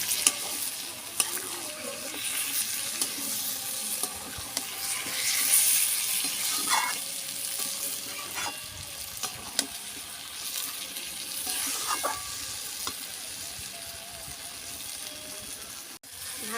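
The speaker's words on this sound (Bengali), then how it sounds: "ভাজা আলুগুলো দিয়ে আমি আরেকটু কষিয়ে নেব" Fried potatoes are stir-fried in a pan of chicken curry masala, giving a continuous sizzle with repeated spatula scrapes and stirring strokes and a brief watery splash near the middle.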